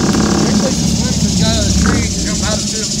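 A boat engine hums steadily near a sandbar at Weeki Wachee Springs, Florida, a low, continuous drone under several people talking, easing slightly toward the end.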